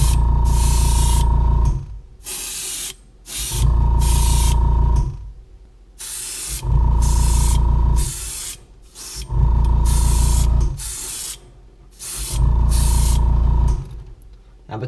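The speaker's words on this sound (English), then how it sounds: "Then we're going to spray that on there, just on the sides." Airbrush spraying dark green paint onto the sides of a crawfish crankbait lure, a steady loud hiss coming in repeated bursts of about two seconds each, separated by short pauses.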